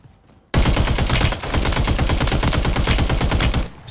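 Rapid automatic gunfire in the video game Warzone erupts suddenly and runs as one loud, sustained burst of close, evenly spaced shots for about three seconds before cutting off.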